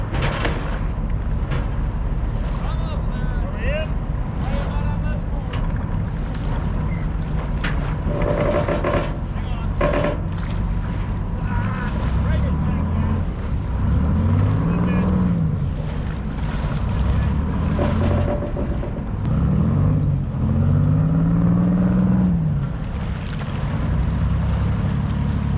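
A WWII Higgins boat landing craft pulls off a riverbank and motors away through the water, its engine a steady loud rumble with wind noise and passing wakes throughout, rising surges near the end.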